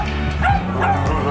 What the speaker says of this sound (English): And Lucky's barking